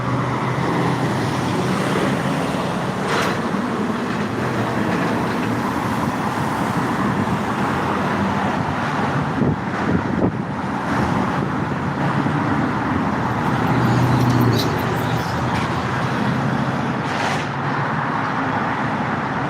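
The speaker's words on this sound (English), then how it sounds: "That is one awesome, awesome, awesome looking Dodge TA." A Dodge T/A car drives past on a roadway, its engine a steady broad rumble mixed with ongoing traffic noise and no voices.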